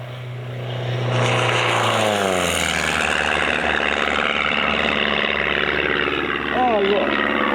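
A helicopter flies overhead near the sea by a model flying field, a loud sustained rotor and engine drone that swells in after a second and holds steady, with a voice briefly heard.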